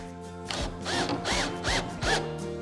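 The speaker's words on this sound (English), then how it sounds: "We'll go ahead and just touch these with a pilot hole." A power drill bores short pilot holes into a mudroom bench unit, with several quick whirring bursts that rise and fall in pitch, close up, with no talking.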